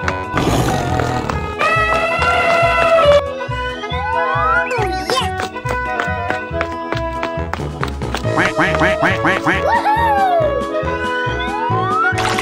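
Cartoonish duck quacks repeat over a bouncy, busy music bed, with boings and other comic sound effects mixed in across the whole stretch, loud and close.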